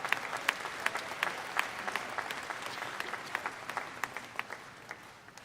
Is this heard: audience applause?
yes